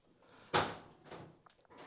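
A 1968 Ford Shelby GT500KR door unlatches and swings open with one sharp loud click and clunk, then lighter knocks and rattles follow close by.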